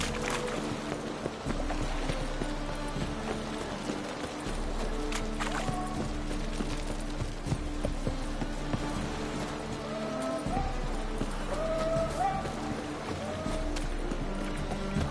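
Horse hooves clip-clop in The Witcher 3: Wild Hunt, a run of rhythmic thuds under game music and ambience, with occasional voice sounds mixed in.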